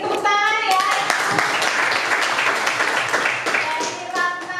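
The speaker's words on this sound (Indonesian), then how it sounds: "Oke, tepuk tangan ya." A classroom of students claps together in a short burst of scattered, uneven hand claps, with children's voices and chatter mixed in and a teacher speaking over the noise.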